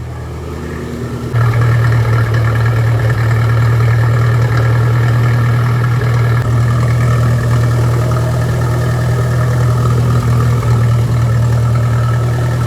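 A restored Ferguson TE20 tractor engine idles steadily with a loud, deep, even rumble that holds constant throughout, no voices present.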